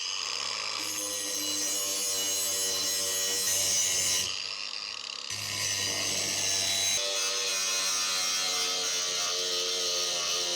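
Edges of cut steel plates are cleaned up with a grinder for an overlander rack build. A continuous loud, whining grind runs at close range, cutting out briefly for about a second before starting again.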